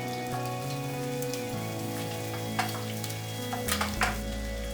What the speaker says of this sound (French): Faire suer l'ail et le gingembre une quinzaine de secondes.